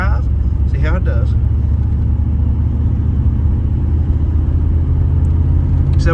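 A 1986 Pontiac Firebird Trans Am on the road, its engine a loud, steady low rumble that carries through the whole stretch, with a brief voice near the start.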